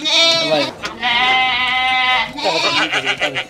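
A goat bleats loudly and close during milking, two long wavering cries followed by shorter broken bleats, with faint background voices.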